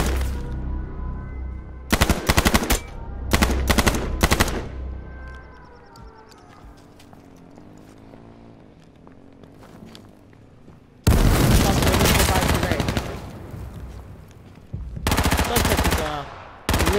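Gunfire in the survival shooter H1Z1, loud close bursts of rapid automatic shots in several volleys separated by quieter stretches with faint background noise.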